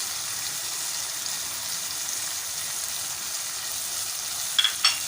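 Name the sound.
spices frying in pan: coriander, salt, chili, turmeric, amchur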